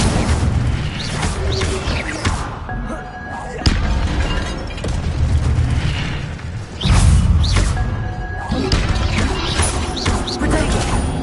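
Repeated Incendio fire spells cast in Hogwarts Legacy on PlayStation 5, loud crashing bursts that erupt and swell several times over dense game sound and music.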